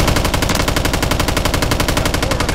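Rapid automatic gunfire in a shooter video game, a loud, close, continuous stream of evenly spaced shots for the whole clip, with no talk.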